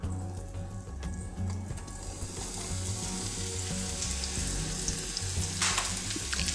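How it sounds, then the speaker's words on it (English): Mushrooms sautéing in a pan of melted olive oil and butter, giving a steady, close sizzle and crackle throughout with a faint stir or scrape near the end. "we're going to add some olive oil and butter to start to saute our mushrooms"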